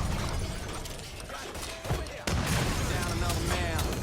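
A grenade goes off in the open-world crime game Mafia 3, a sudden loud blast that swells into sustained roaring debris and gunfire-like crackle, dense and close, filling the rest of the moment.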